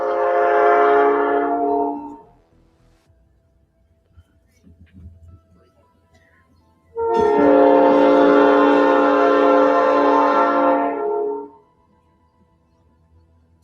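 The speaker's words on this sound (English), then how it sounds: "we should have stopped the train" A train horn blasts loudly for about two seconds, falls quiet with faint low rumble, then sounds again in a longer sustained blast of around four seconds, close and strong.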